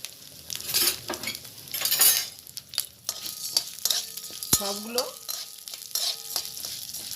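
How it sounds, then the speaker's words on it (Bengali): Chana dal, urad dal and split chillies frying with coriander in a pan, a steady close sizzle broken by scraping stirs and light metal clinks of a spoon, with a brief spoken word partway through. "ভাজা ভাজা করে নিচ্ছি।"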